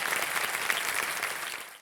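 A game-show studio audience on KBC breaks into dense, sustained applause welcoming a contestant's parents, steady and full before cutting off abruptly at the end.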